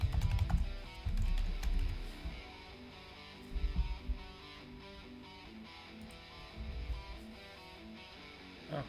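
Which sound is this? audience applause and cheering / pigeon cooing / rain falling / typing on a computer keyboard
typing on a computer keyboard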